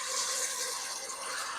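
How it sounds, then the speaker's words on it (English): Pasta water pours steadily into a pan holding lemons and garlic, a continuous bright splashing rush close by with no talking. "So I'm just going to add half of my pasta water."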